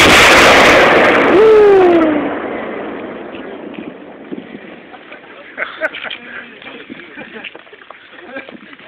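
Explosive detonation during EOD runway repair training on an airfield: a loud close blast with a sharp whistling streak, fading over a couple of seconds into a long tail, followed by scattered faint clatter and distant voices.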